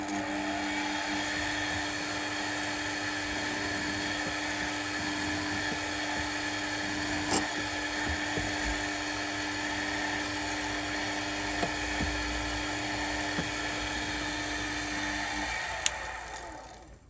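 Small 2.6 mm drill bit boring into metal for a PM Research #3 engine build, a steady high whine with tonal hum from the machine running continuously, fairly loud and close, no talking.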